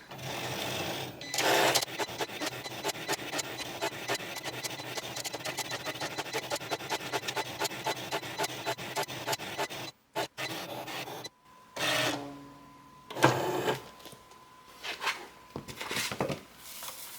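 A Cricut cutting machine scores and then cuts paper, producing a steady, rapid mechanical chatter of evenly spaced pulses that stops abruptly, followed by softer carriage whirs and shuffling handling noises nearby.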